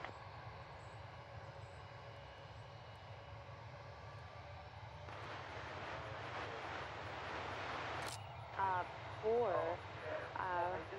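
Jet airliner engines roar steadily at Reagan National Airport's runway, a continuous broad rumble building from about five seconds on, with radio voices talking over it near the end.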